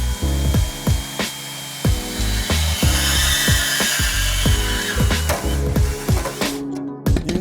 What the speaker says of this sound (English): Because I used a bandsaw, my cuts are incredibly clean.